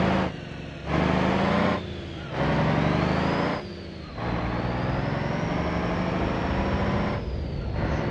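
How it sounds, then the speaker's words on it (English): Tire screech and engine noise from a car in the BeamNG.drive driving game, with sustained squealing passes broken by short gaps and a long continuous screech in the second half, loud and with no talk. "I like the screeches of the tires."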